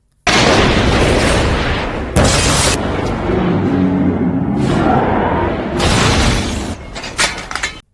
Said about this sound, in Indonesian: Namun, tiba-tiba mobil Frank meledak.